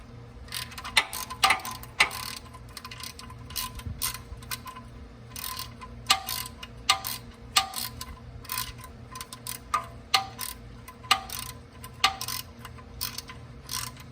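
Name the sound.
ratchet torquing oil drain bolt on Porsche Cayenne 3.6 V6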